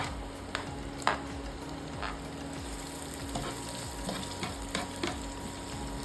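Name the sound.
chopped onion frying in a pan for egg bhurji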